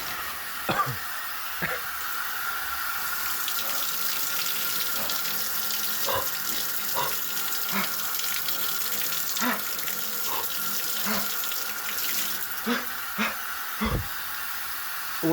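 A person wades into cold outdoor water at about 50 degrees, making continuous splashing and sloshing with a hissing wash and scattered sharper splashes throughout, fairly close, with no talking.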